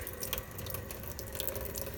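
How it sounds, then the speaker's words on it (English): Water runs steadily from a sink tap during art-supply clean-up, a continuous splashing hiss with small drips and clatters, close and fairly loud, with no voices. "Turn off the water."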